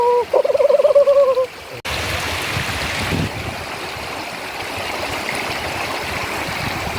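A small mountain stream flows with a steady, close, full rush of water that runs to the end, after a short opening stretch of an unrelated warbling tone.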